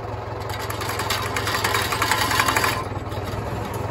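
A tractor engine idles steadily with a low rhythmic thrum while the PTO is engaged through a two-stage clutch during hay baling in East Tennessee, a brief rise in load and higher whine before settling back.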